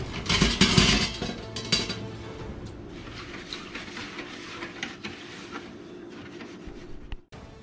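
Stirring pickling brine of white vinegar and sugar for fish produces clinking and scraping of a utensil against a container, loudest at first, then softer, uneven rubbing and light taps close by.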